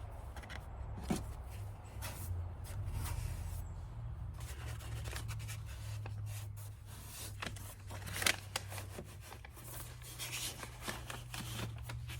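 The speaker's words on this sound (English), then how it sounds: "we're going to have to cut out a piece of this foam to cover this bit of the bumper here" Foam being cut by hand for a Ford Bronco IAG mudflap fitting, giving soft, irregular scraping and snipping strokes close up, with a steady low hum underneath and no talking.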